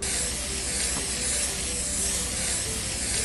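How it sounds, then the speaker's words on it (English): A steady, continuous hiss of bug spray from an aerosol can in the Kick the Buddy game, loud and unbroken for a few seconds with no speech over it. "I didn't even touch you with the bug spray."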